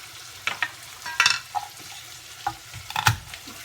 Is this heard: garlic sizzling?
yes